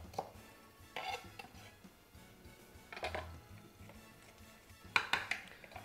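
A spoon stirs sliced onions with lime juice in a bowl for a beef salpicón. It gives soft, faint scrapes and clinks at irregular intervals, with one brief louder clatter near the end.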